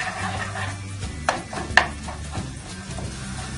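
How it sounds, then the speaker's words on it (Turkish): Soft sizzling of pepper paste frying in a pan, with a couple of sharp clinks of a utensil against the pan and light stirring scrapes. "Bir yemek kaşığı biber salçamızı ilave edip kokusu çıkana kadar kavuruyoruz"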